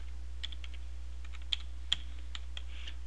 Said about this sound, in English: So let's go right here and type anatomy.